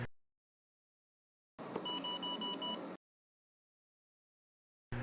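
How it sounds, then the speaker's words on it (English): A quick series of electronic beeps from a receiver accepting a transmitter's security code during pairing sounds in a short burst after silence, about six evenly spaced tones, clear and close. "The receiver will beep multiple times,"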